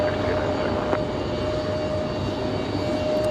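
A Delta airliner bound for Atlanta takes off from Raleigh-Durham, its engines a constant broad roar with a faint steady whine on top, heard alone without talking.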